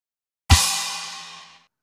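A single combined splash cymbal and kick drum hit lands loud and close, its bright cymbal shimmer ringing out and fading over about a second, with no voices.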